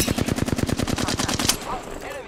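Rapid automatic gunfire in a video game, aimed at Pathfinder: a loud, close burst of about fifteen evenly spaced shots lasting around a second and a half, followed by quieter game sounds.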